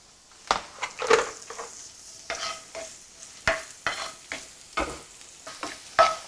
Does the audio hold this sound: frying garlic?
yes